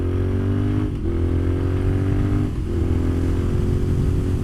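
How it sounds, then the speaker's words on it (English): A motorcycle rides at speed with a steady loud engine drone, while wind rushes and roars over the rider's helmet throughout. "and I get wind blowing over my helmet"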